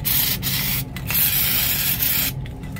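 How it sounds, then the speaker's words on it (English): Nu-Calgon Pan-S coating sprays onto a rusted-through produce case evaporator drain pan in a loud, steady aerosol hiss, broken by a few brief pauses between bursts. "See how it gets real thick if you let it spray on one spot."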